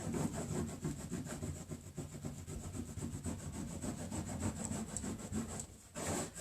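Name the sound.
scraper scraping wording off a growth chart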